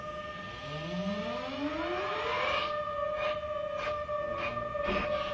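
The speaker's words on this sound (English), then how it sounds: "Sounds of a high-speed camera." A rising mechanical whine that spins up in pitch and settles into a steady high tone, with a few sharp clicks near the end.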